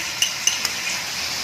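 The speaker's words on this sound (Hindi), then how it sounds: "इसको भी अच्छी तरह हम मिक्स कर लेते हैं" Ginger garlic paste being stirred into mutton karahi, a few sharp spoon clinks against the pot over a steady soft sizzle, close and moderately loud.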